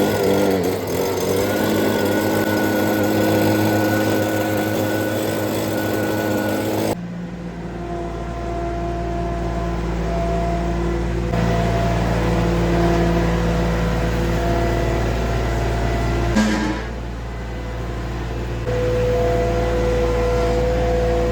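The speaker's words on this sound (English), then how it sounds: "I'm gonna grab a little leaf blower, blow that off quick" Leaf blower blowing debris off an abandoned riding mower: a loud, steady engine roar with a high whine that shifts pitch as the airflow changes, running continuously throughout.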